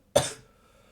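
One short, close cough from a sick person bursts out and fades quickly into quiet.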